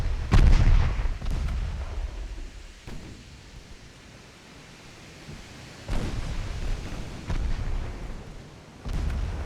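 Heavy naval guns boom in Ultimate Admiral Dreadnoughts during a typhoon battle, with loud blasts near the start, around six seconds and near the end, over a constant roar of storm noise.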